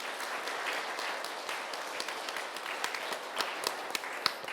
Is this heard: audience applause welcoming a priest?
yes